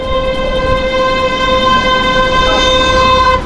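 An ambulance siren holds a loud, steady, close electronic tone for the whole stretch, heard from a bicycle ride on Rügen with no talking.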